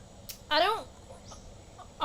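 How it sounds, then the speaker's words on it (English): A single bird call, sounding like a rooster or fowl cluck, rings out once at moderate distance over faint morning ambience in the driving game The Long Drive, with a few softer chirps after it. "Sounds like the birds here in the morning"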